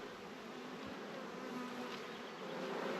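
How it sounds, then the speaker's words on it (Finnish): Honeybees buzz around beehives in a steady, dense drone, soft and continuous, with no voices. "kyllä ne tosiaan nämä mehiläiset, niin kyllä ne osaa pistää ja pistävät tarvittaessa"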